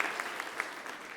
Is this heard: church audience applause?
yes